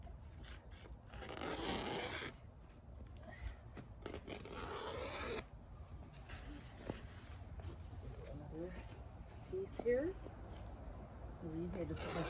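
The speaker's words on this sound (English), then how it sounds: "I just put my foot down and glide the scissors across" Scissors gliding across landscape fabric laid out for raised garden beds, with repeated scraping, rasping cuts and rustling of the material, close by, alongside some handling noise.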